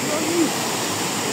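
A river flows below a footpath at night, a steady rushing roar like a small waterfall, with a voice speaking briefly over it.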